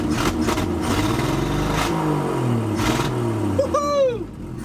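Old, long-forgotten Chevy C10 pickup engine running after decades of sitting, loud and close with a rough idle that climbs and falls through revs before easing off.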